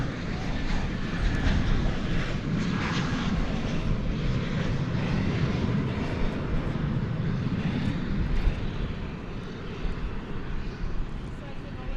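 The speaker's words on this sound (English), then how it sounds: "Look at that, a FedEx MD-80 going up in the air from the east side." FedEx MD-80 jet climbing out on takeoff from DFW Airport at night, a steady broadband engine roar holding loud through the whole stretch with a slight fade near the end, voices talking faintly over it.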